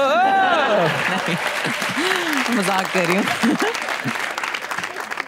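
Studio audience on a Pakistani TV comedy talk show claps steadily throughout, a dense wash of applause under a woman's speech and laughter up close.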